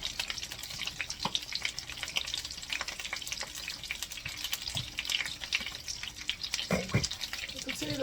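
Pork schnitzel frying in a pan, a soft continuous sizzle and spatter with a few knocks of the pan being handled, moderately quiet.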